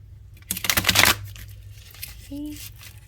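A tarot card deck gets a quick shuffle, a short burst of crisp riffling and flicking cards lasting about half a second, followed by a brief faint voice sound.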